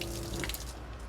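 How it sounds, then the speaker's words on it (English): Water runs from the tap of a Toyota LandCruiser 79 Series 4WD camper in a short, faint gushing burst. "Now we come around to our tap and just watch your feet. That's water."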